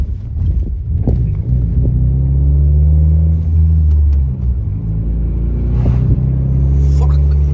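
Ford Mustang engine revving up loud and close, its deep low rumble swelling and easing in several pulls with a steady idle burble between, while people talk over it.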